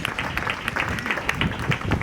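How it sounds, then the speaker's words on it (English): Audience clapping for the organizers at an outdoor green festival in Jinja, a steady patter of many hands close by, with faint speech underneath. "Let's clap for the organizers."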